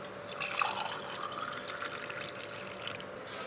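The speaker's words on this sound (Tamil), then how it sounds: "ரெடியான நம்மளுடைய ஜூஸை வந்து நான் வந்து என்ன பண்ண போகிறேன்னா அந்த கிளாஸில் ஊற்றி பரிமாற போகிறேன்" Homemade amla and mango juice poured into a glass, making a steady close liquid splashing and trickling sound that runs throughout without pause.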